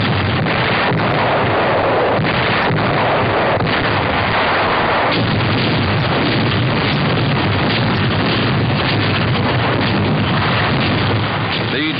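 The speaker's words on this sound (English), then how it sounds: "A huge 280-millimeter cannon led the German artillery." A huge German 280-millimeter cannon fires in a 1944 wartime newsreel from the fighting below Rome, heavy booming blasts and rumbling detonations sounding loud and continuous, with narration heard over the noise.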